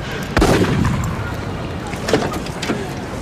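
A sharp gunshot cracks out near the start, followed by a couple of fainter, more distant bangs over a low background rumble.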